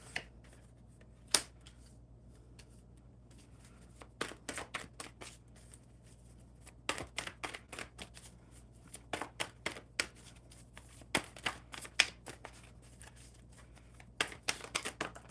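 Oracle cards shuffled and pulled during a live card reading, heard as scattered crisp snaps and short riffling bursts against a quiet steady hum, sparse at first and then busier.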